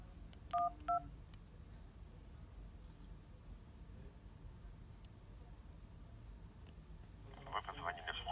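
Telephone keypad dialing tones for a call to the 112 emergency hotline on a mobile phone: two short, clear beeps near the start, then a low steady background hiss with a brief brighter burst near the end.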